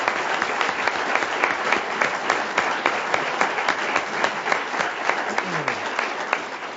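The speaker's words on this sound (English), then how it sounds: "Give a big round of applause" At a school board meeting, the audience applauds a graduating student with a steady, even round of many hands clapping that carries on for nearly seven seconds at moderate loudness, with a faint voice briefly underneath.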